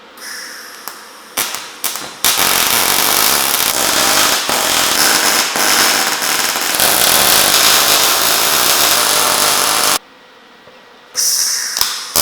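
A welder tack-welds the steel hoops of a rotisserie for a classic Alfa 105. A few short crackling bursts come first, then a long sustained loud buzzing arc, a brief silence, and another burst.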